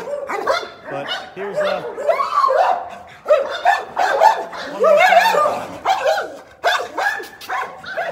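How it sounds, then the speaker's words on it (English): A pack of small bomb-detection dogs bark and yip in quick, overlapping bursts close by, while someone talks over the noise. "Yeah, cool little dogs"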